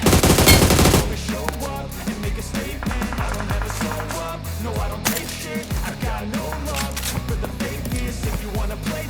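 Rapid bursts of automatic gunfire from PUBG Mobile, dense and loud throughout, with repeated volleys layered over game sound and no talk.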